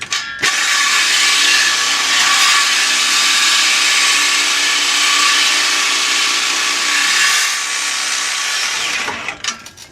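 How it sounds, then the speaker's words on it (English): A big Sawzall reciprocating saw cuts through the exhaust pipe of a 2006 Duramax where the original muffler sat, a loud, steady rasping buzz running nearly nonstop close up before cutting off at the end. "I'm just gonna cut where the original muffler was"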